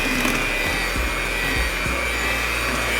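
A steady electric hand mixer whirs continuously as it beats powdered sugar frosting, a loud, even motor drone holding for the whole stretch with faint bumps of the beaters against the bowl.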